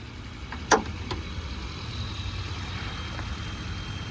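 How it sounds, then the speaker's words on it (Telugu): A 2009 Maruti Wagon R Duo LPG and petrol model idling with the bonnet open, a steady low engine drone throughout, with one sharp click or knock near the start. "ఇగ్నిషన్ ఆన్ చేసి ఇంజన్ అయితే స్టార్ట్ చేసిన, బానెట్ ఓపెన్ చేస్తున్నా."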